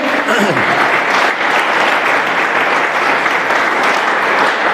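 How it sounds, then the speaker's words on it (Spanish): Church congregation applauding during a Spanish-language sermon on honor in the house, a steady, loud wash of clapping that fills the whole span, with a voice briefly audible near the start. "¿Puede darle un aplauso al Señor?"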